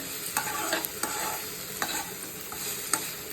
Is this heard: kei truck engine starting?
no